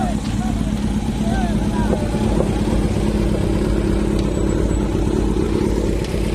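Motorcycles arriving at a riders' annual meet, over fifty bikes including a Z900, their engines forming a steady loud drone with revving and clatter, under a crowd of voices and chatter.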